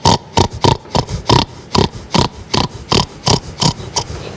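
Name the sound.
man imitating a pig oinking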